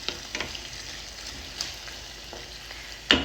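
Red beans are stirred in a pot with a spoon, giving faint, irregular scraping and soft clinks over a quiet background, with a louder knock near the end.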